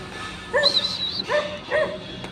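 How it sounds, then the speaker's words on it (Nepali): Dogs at a dog shop in Malaysia give three short, separate barks, fairly close, with whine-like tonal edges, over a low background hum. "कुकुरहरूको बिक्री छ यहाँ।"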